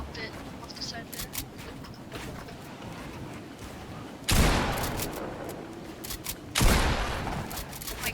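Video game gunfire crackles in two sharp bursts a couple of seconds apart during a battle-royale match, set against quieter background game sounds and ambience.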